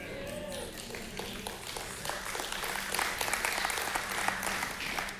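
A church congregation applauds steadily, a dense crowd of clapping hands that swells slightly and holds for several seconds, with a voice faintly audible under it.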